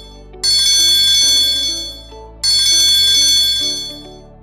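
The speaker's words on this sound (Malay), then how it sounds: "Apabila berlaku kecemasan, loceng akan berbunyi" Two loud metallic emergency alarm bell rings in a building, each a bright ringing burst that decays slowly, heard close with no voices.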